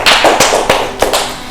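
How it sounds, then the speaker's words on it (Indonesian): A few scattered hand claps from classmates in a classroom after a group presentation, about four or five sharp, separate claps close by with no talking. "Beri tepuk tangan untuk teman-teman semua."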